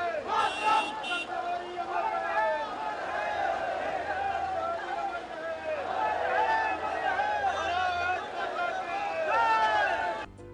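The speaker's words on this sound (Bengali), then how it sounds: "এই যাত্রাত অংশ লওয়া হাজার হাজার লোকে অটলজী অমর রহে স্লোগান দিয়ে।" Thousands of people in a memorial procession for Vajpayee's ashes chant the slogan "Atalji amar rahe" together, a steady, rising and falling mass of voices carrying on for the whole stretch.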